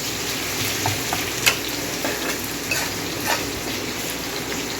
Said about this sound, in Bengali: এবার রসুন আর পেঁয়াজ দুটোকে একটুখানি ভালো করে ফ্রাই করে নেব।